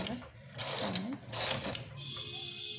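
A domestic knitting machine's carriage slides across the needles while running rows for a sweater's edging, two whirring mechanical passes with a clatter, close by, alongside someone talking.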